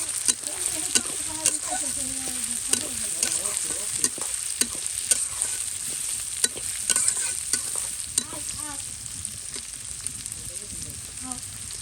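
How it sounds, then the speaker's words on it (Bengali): Onions fry in oil in a home kitchen with a bright, continuous sizzle close to the pan. Frequent spoon scrapes and taps on the pan mark steady stirring throughout, while a voice speaks faintly underneath. "এখন হচ্ছে পেঁয়াজ দিয়ে দিলাম দিয়ে দিলাম এখন এটাকে ভালো করে ভাজা ভাজা করে নেব"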